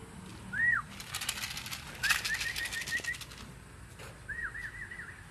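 A racing pigeon returns from a training flight and lands nearby, wings flapping in a rapid clattering burst, with short whistling bird calls before and after and a faint outdoor background.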